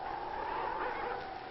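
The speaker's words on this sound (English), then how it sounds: "the only sound besides the wind will be the barking of our dogs" Sled dogs bark and yelp in snowy northwestern Alaska, a faint, muffled chorus of overlapping canine calls running steadily throughout.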